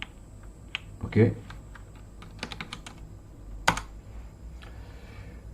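Keys tapped on a computer keyboard while entering commands in an Arch Linux terminal, a few scattered clicks and a firmer keystroke cluster, close and moderately loud, with a brief spoken word.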